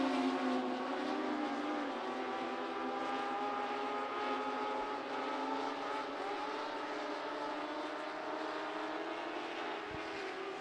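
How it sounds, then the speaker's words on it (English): Three-quarter modified race cars lapping a track at a racing event, a continuous loud roar of several engines droning together with no break, no speech over it. "Wade Olmsted now racing after the number 32P of Jesse Powers."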